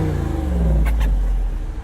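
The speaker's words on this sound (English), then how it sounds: "This exhaust is absolutely fantastic. It sounds so good." A Jeep Wrangler with an aftermarket exhaust revving up close, a steady deep rumble that swells and then eases off, with no talking over it.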